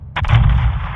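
Heavy artillery fire slams into buildings in the Modern Warfare 2 campaign, a sharp booming impact followed by a sustained loud rumbling roar with no voices.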